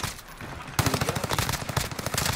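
Rapid automatic gunfire from a first-person shooter game, starting abruptly after a quieter moment and continuing in loud, dense bursts of repeated shots.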